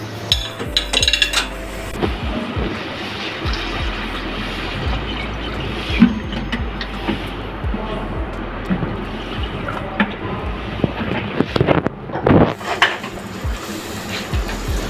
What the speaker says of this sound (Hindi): साथ ही इसमें ऐड करना है आधा लीटर पानी।